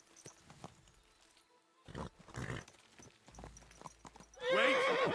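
A horse in Kingdom Come: Deliverance 2 clops along with a few hoof beats, then lets out a loud, close whinny at the end.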